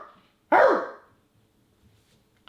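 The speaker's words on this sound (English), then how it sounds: "Dogs upstairs, bro." A single muffled dog bark from upstairs rings out in a quiet room, followed by silence and the start of another bark.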